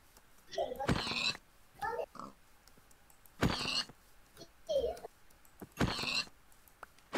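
Pigs in a Minecraft-style video game give repeated short oinks and grunts in several separate bursts, fairly close, with quiet gaps between them.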